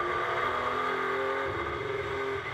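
BMW M4 GT race car at the Spa 24-hour endurance race, its engine note shifting as it drops down through the gears, a steady mid-distance drone with changing pitch.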